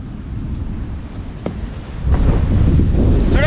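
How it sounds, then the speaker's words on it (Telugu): Strong wind gusting in hilly country during a thunderstorm, a steady loud rush that buffets the microphone and swells heavier partway through, with no talking. "చూడండి చూడండి గాలి చూడండి."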